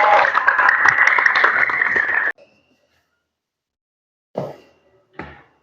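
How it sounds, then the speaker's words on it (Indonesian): An audience in a classroom gathering gives a burst of applause for about two seconds, dense and close, cutting off abruptly, followed by silence and two short isolated knocks or claps. "Tepuk tangan buat kalian."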